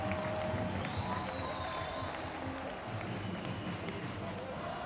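Arena crowd at an ice hockey game applauding Braehead Clan goaltender Gary Russell as he comes on, a steady, dense wash of clapping and crowd noise throughout with a commentator talking over it.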